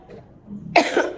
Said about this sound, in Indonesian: Duh batuknya jelek banget ya.